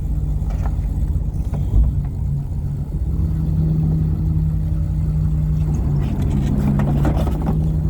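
A small boat engine on the water at a kim seaweed farm in Korea, a steady low motor drone running without pause through the whole stretch, fairly close and loud, with a slight swell in the later part.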